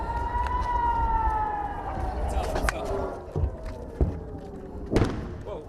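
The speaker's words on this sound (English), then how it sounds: "And the sirens are near non-stop in towns close by." A wailing air raid siren in Israel drones and slowly falls in pitch, then fades as a few sharp thumps and knocks sound nearby.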